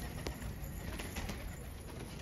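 Pigeons cooing at a rooftop loft in Rohtak, soft repeated coos blended into a steady hiss of background noise, faint and continuous without talk.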